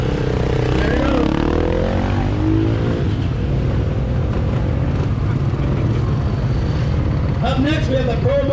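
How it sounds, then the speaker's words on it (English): KTM dirt bike pulling away from the start of the Baja 1000 off-road race, its engine revving loud and continuous with rising pitch, under announcer speech. "Looking to get out there on that KTM. There it goes."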